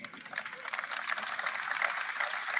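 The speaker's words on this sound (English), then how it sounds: "Mostly the parents clapping there." Parents clapping in a recorded speech, a steady dense patter of many hands lasting throughout, moderately loud and without speech over it.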